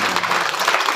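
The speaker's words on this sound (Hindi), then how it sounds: "अरे तो अपने आप के लिए ताली तो बजाओ।" Audience applause at a school educational tour event, a steady burst of clapping filling the whole moment.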